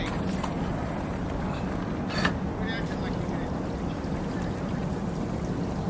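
Wastewater pours steadily out of an RV black tank after its valve is pulled, a continuous rushing gush heard close by with a few faint clicks and no clear talk.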